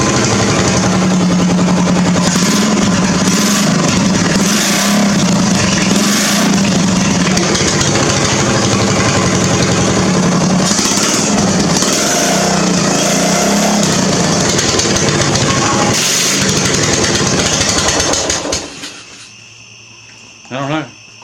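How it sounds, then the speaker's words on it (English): A ride-on mower engine fitted with a chrome-tip muffler runs loud and raspy at high revs for a long stretch, with repeated blips of throttle, then cuts off abruptly near the end, leaving a brief clunk. "Just kind of curious what it would sound like with that muffler"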